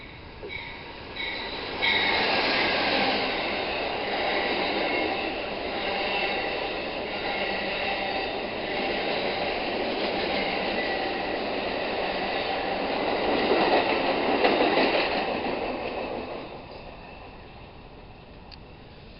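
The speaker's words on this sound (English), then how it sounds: "Looks like there's another Amtrak train coming up just down here." An Amtrak train rolls past Fredericksburg station, a loud sustained rumble with wheel and rail noise that swells as the cars go by and eases off toward the end.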